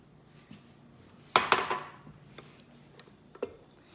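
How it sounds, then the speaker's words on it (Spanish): Cookie batter with milk being beaten in a bowl: a burst of scraping, clinking utensil-on-bowl strokes near the middle, with a few lighter taps before and after, close and fairly quiet. "Y vamos a seguir batiendo."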